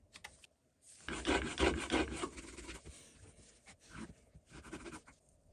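Leather rubbed against rusty metric slip gauges, a close rasping back-and-forth scrubbing in repeated strokes, loudest early on and then lighter bursts, with no talking.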